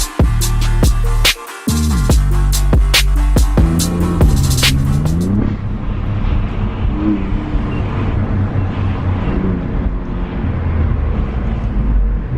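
An Alfa Romeo Giulia Quadrifoglio engine revs loud and aggressive, with sharp crackling pops and rising engine notes up close, then settles into a heavy, steady roar as the car drives on.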